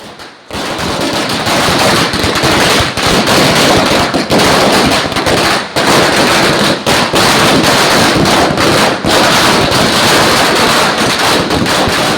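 Firecrackers burst nonstop in a dense, loud, crackling barrage at an outdoor political party victory celebration, with rapid pops blending into continuous noise.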